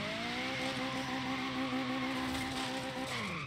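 Mazda Miata racing in Forza Horizon 3, its engine holding a loud, steady rising tone with layered harmonics while tires squeal through a slide, continuous and close with no talk.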